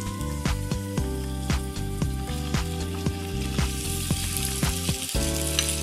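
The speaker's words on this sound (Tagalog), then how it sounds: "Sarsarap bagoong. Chicken. At ihalo na ang kanin." Rice sizzles loudly in hot oil as it is stir-fried with shrimp paste and chicken. A steady frying crackle runs under repeated scraping stirs from a utensil, and a tonal hum sits in the background.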